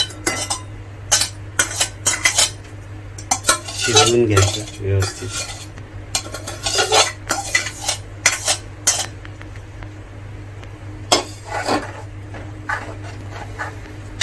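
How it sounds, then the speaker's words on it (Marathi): A thickening mango muramba spiced with chilli and cinnamon powder is stirred in a kadhai, with a spoon scraping and clinking against the metal pan in irregular bursts over a steady low hum, and someone speaks briefly. "मध्ये मध्ये लागू नये म्हणून हलवत राहायचं"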